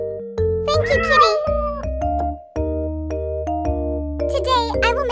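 A small cat meows several times in short, high, wavering calls, close and clear, between bright tinkling chime tones and a gentle synthesized melody, with a child-like voice speaking briefly.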